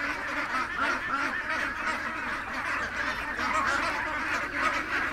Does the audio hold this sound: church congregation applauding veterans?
no